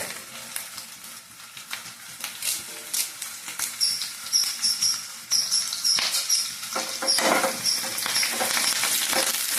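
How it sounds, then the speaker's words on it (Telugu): Curry leaves sizzling in hot oil with onion tempering for leafy-greens dal, crackling and popping unevenly up close, building to a louder, denser spitting sizzle toward the end. "ఇప్పుడు తాలింపు అయితే వేగుతూ ఉంది"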